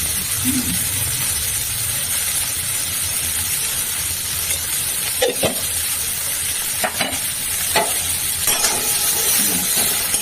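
Turmeric and spices fry in a pan for cauliflower curry with a steady, close sizzle, broken by a few stirring scrapes and clinks against the pan. No voices are heard.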